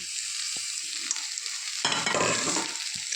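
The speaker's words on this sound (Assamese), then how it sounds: "এতিয়া ভালদৰে মিক্স কৰি ল'ম" Aloo paratha potato filling stirred in a pan, with a steady sizzling hiss and a burst of scraping and stirring near the end, close and without talk.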